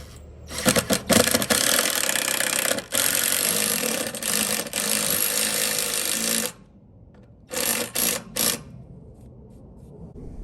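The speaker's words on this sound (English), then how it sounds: "I am pre-drilling it just so I don't split the wood" A power drill pre-drills into wood on a motorcycle trailer, whirring in several short bursts, then a longer continuous run, close and moderately loud, with brief pauses between.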